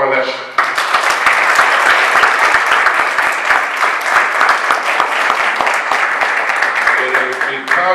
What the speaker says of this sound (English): join me in giving a big round of applause to Angel Medina